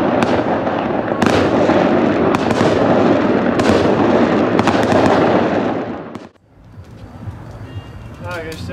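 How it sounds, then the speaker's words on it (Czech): Fireworks burst in a loud, dense barrage of crackling explosions for about six seconds, then fade abruptly to a much quieter outdoor scene, heard during a carp fishing outing. "A máme to i s ohňostrojem."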